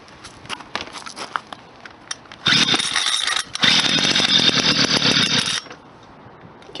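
An old lawnmower engine, long left sitting, sputters into life after several scraping pull-start attempts, then runs with a loud, rough, steady drone before cutting back, heard up close.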